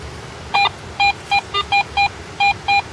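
A metal detector gives a series of short, clear electronic beeps, about nine in quick irregular succession, as it passes over a buried coin. The beeps ring out loud and close over faint background noise.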